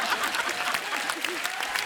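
A studio audience on The Kapil Sharma Show claps in a fairly quiet, steady patter of applause, with no voices over it.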